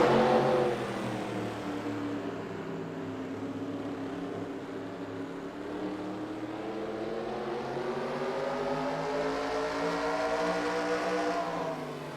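Sportsman race cars pull away to start a heat race at Spencer Speedway, a short oval bullring. Their engines build into one sustained, rising roar that swells and holds for the whole stretch.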